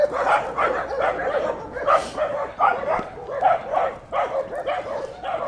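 Several dogs yip and bark in quick irregular bursts, mixed with whimpering, close and continuous indoors, with a person talking faintly underneath.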